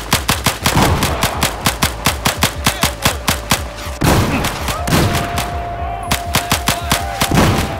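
Automatic gunfire in the video game Battlefield 4 on Xbox One, loud rapid bursts of repeated shots with brief pauses and a heavier blast midway, close and dominant.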